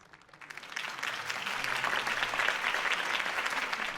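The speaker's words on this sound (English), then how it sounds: "could have heard that applause" Crowd applause swells after a mayoral campaign speech in the Batman Telltale video game, rising from quiet to a steady, dense roar of clapping that carries on without pause.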